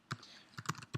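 Short command typed on a computer keyboard: a few crisp, close key clicks in a quick uneven burst, no talking.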